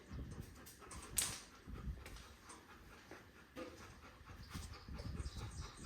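A working dog in training pants and snuffles quietly nearby, with soft rhythmic breaths, scattered movement noises and a brief whine.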